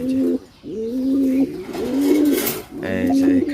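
Pet doves coo close by in repeated soft, low, rolling phrases, four or so in a row, with faint background noise between calls.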